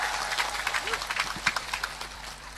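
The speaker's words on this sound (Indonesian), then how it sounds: "Tepuk tangan sekali lagi." An audience at an Islamic religious gathering claps in scattered bursts while voices and crowd murmur carry alongside.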